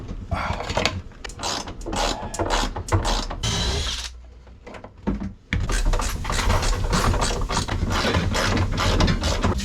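Ratchet clicks drive bolts home to mount a heavy lithium boat battery on a wall, with quick close-up bursts of rapid pawl clicking and a short pause midway. No talking.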